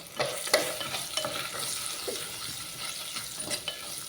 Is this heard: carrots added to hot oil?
yes